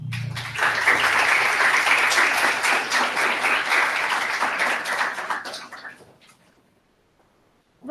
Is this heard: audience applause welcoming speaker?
yes